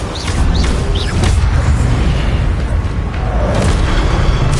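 An Incendio fire spell cast in Hogwarts Legacy erupts as a loud, sustained fiery roar with a deep rumble, and brief whooshing flickers rise over the continuous blaze.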